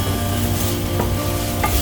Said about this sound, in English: So I've just started to fry it.